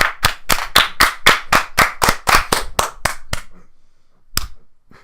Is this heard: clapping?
yes